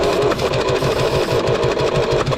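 An Allis Chalmers 5040 tractor engine cranks steadily on its starter, a fast rhythmic chugging that stays loud and even without catching.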